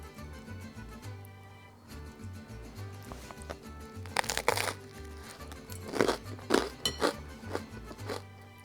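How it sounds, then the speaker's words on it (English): Sharp, irregular crunches from biting into sourdough toast topped with crunchy garlic chips and guacamole, a cluster of loud bursts close to the mic over a quiet, faintly humming background. "I'm sure you can hear how crunchy that is."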